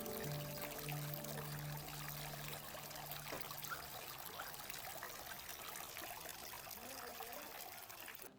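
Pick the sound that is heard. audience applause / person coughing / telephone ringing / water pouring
water pouring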